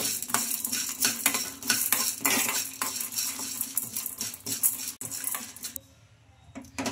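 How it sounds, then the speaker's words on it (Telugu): Steady frying sizzle of urad dal and coriander seeds, with frequent metal spoon scrapes and stirring clatter in a pan, ending in a brief quieter stretch. "1 స్పూన్ మినప్పప్పు, 1 పావు టీ స్పూన్ ధనియాలు వేసేసుకొని బాగా ఫ్రై చేసుకోవాలి."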